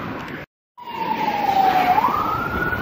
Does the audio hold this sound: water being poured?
no